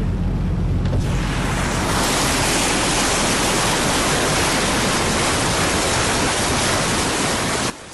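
Flood water rushing through streets and overflowing mountain torrents after heavy rain, a dense roaring wash of churning water that swells in after the first second and stays loud and steady.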